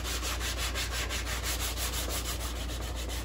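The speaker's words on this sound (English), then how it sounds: "I'm just doing some hard manual sanding here" Rapid back-and-forth scraping of 180-grit sandpaper on a block, sanding a large-scale C-57D space cruiser model kit, a steady rhythmic rubbing repeated many times, close and constant with no talking.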